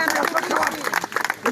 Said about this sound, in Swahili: Sipiga makofi tu kidogo kwa ajili ya Bwana.